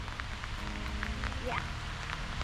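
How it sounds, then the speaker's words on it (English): Steady rain falling at Jordan Lake during a family fishing outing, a constant dense patter with faint voices and a brief whistle-like tone in the background. "We're out here in the rain having fun."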